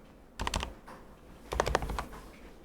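Two short bursts of rapid keystrokes on a computer keyboard while code is entered, each a quick cluster of close, crisp clicks separated by a brief pause.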